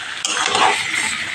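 Shankar fish sautéed with salt and turmeric in a pan: a sharp clatter of contact, then a loud, close sizzle and stirring hiss that fades slightly, with no talking.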